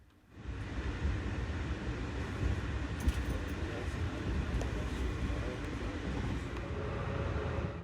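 A Lehigh Valley Rail Management freight train makes a shoving move at Johnstown, a steady low rumble and rolling roar that holds evenly throughout, with faint metallic clanks on top.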